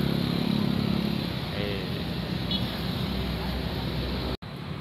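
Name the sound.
motorcycle entering underground parking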